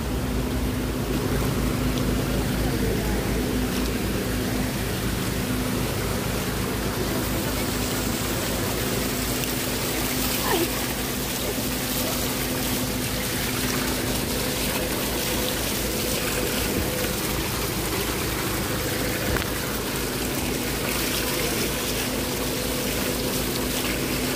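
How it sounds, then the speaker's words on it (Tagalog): Water from a mountain waterfall at Ilocos Norte, Philippines rushes in a steady, loud, unbroken wash close by, with a faint low hum running under it throughout. "Ganda ng tubig guys. So, galing sa waterfalls."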